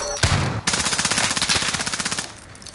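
Rapid automatic gunfire from the video game Modern Warfare, a dense, loud burst of evenly spaced shots after a brief opening blast, rattling steadily for about two seconds before tapering off.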